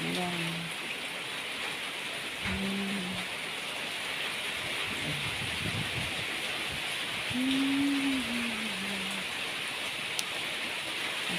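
Heavy rain with wind pours in a continuous, dense hiss, while a few brief voices speak faintly underneath.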